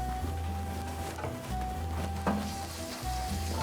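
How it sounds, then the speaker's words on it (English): Garlic sizzles steadily in a pan over a low flame while a wooden spoon stirs it, giving a continuous close frying hiss with soft scraping strokes and a few brief pauses. "get yourself a wooden spoon, and as it's sizzling"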